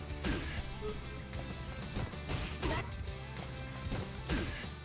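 Punches landing on an opponent in a fighting video game, a series of sharp smacking hits spread through the clip over background game music and effects.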